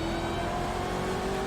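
A car engine on a race circuit accelerating under throttle, a steady loud droning hum with rising engine tones.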